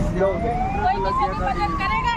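A fire engine siren wails with a rising tone over busy street noise at a car accident scene, while people talk nearby.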